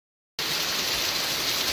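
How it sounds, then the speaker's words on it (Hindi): Light drizzle falling outdoors in a mountain village, a steady soft hiss of rain that starts abruptly and continues evenly, fairly close and alone without voices. "हल्की फुल्की अब बूंदाबांदी भी शुरू हो गई है"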